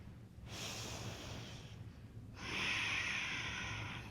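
A single deep breath taken during a yoga flow for headstand prep, a long airy inhale followed by a fuller, louder exhale, close and alone with no talking.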